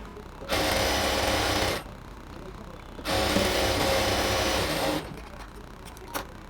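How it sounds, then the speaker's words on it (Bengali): Sewing machine stitching a folded half-inch waistband hem on ladies' pants in two steady bursts of about one and two seconds, separated by a short pause, with faint clicks afterward and no talk. "ফোল্ডিং করে সেলাই করে যাব।"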